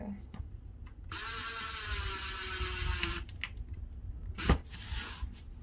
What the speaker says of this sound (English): So we're gonna take my drill